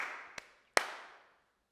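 Two sharp hand claps from children in a second-grade music class, a softer one followed by a louder one, each ringing briefly in a reverberant classroom that is otherwise quiet.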